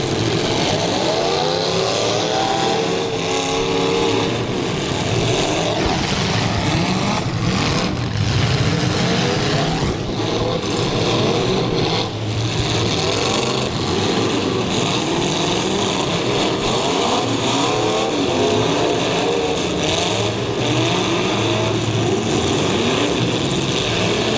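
Demolition derby cars rev their engines at an extreme destruction event, a loud continuous roar of several motors rising and falling in overlapping bursts, with rough mechanical rattle throughout.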